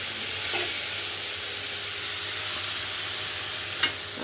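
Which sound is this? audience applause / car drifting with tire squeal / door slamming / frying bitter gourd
frying bitter gourd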